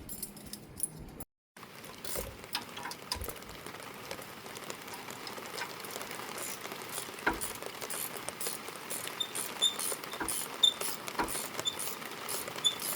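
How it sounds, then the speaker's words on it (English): Steady rain patters outdoors around a car brake job, with a new rotor and pads fitted, as a broad, even hiss with scattered drop ticks runs throughout, briefly cut off near the start. "Your heat gun's plugged in, by the way, and getting rained on."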